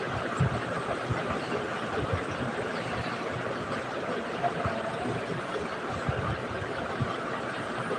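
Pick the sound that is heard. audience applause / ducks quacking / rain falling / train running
train running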